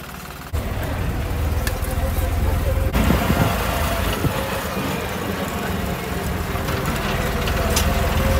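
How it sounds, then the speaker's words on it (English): A tractor engine hauls passengers uphill to the rooms near Dalyan, Turkey, its loud, continuous rumbling drone straining steadily throughout, with a few clanks and jolts mixed in. "Our transport up to the rooms is a tractor, literally."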